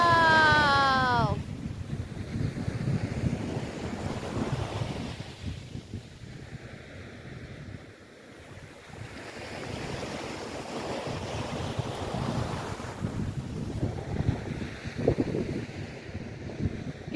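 Sea waves wash onto the shore at Coloane, Macau, a steady rolling surf mixed with wind buffeting the microphone, with a brief voice at the start.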